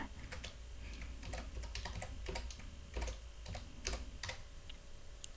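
Quick, light keystrokes come from a computer keyboard as code is typed, in uneven bursts of clicks, close but soft, with no speech.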